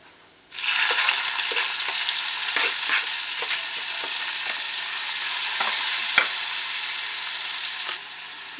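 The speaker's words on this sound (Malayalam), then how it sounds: "ഇനി അതിലോട്ട് ചതച്ച് വെച്ച ചെറിയ ഉള്ളി വഴറ്റിയെടുക്കാം." Crushed small onions (shallots) sauté in hot leftover frying oil for a Kerala chicken thoran, a steady close sizzle with occasional stirring clicks and spatters, heard alone with no talking.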